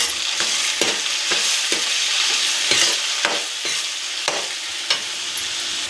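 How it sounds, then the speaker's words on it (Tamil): Tomatoes sauté in a pan for a South Indian kuzhambu, giving a steady sizzle with repeated scraping stirs of a spoon at an irregular rhythm, close and moderately loud, with no voices. "தக்காளி நல்லா வதங்கி வர்றதுக்கு கொஞ்சமாக கல் உப்பு சேர்த்துப்போம்."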